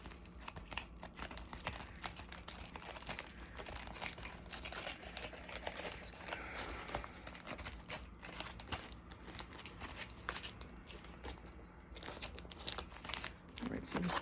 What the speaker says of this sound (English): Just squeezing that aluminum foil, the wrinkles, so that they flatten out.